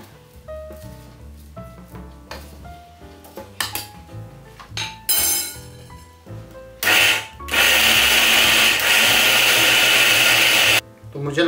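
An electric mixer grinder grinds fenugreek seeds, giving a loud, steady, harsh whirring roar that runs for about four seconds before cutting off. Quieter music plays before it starts.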